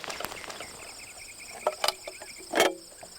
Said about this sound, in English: Crickets can sing by rubbing their legs together.